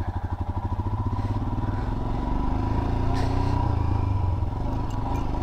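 A Royal Enfield Himalayan motorcycle starts up and pulls away, its thumping single-cylinder idle turning into a rising, revving engine note as it rides off, close and loud.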